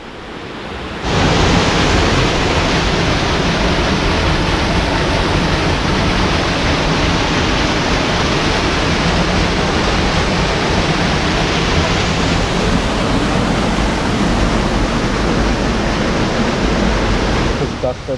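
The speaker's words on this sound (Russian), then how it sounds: "там где-то вдалеке виднеется уже сам водопад" Roar of a distant mountain waterfall: a steady, dense rushing wash that holds constant and fairly loud for the whole stretch, with no talk over it.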